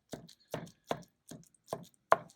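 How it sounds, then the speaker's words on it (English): Ground meat browning in a 12-inch nonstick omelette pan is broken up with a spatula: six evenly spaced, crisp chopping taps, close and fairly quiet, with no one speaking. "Just chop it up with your little spatula here."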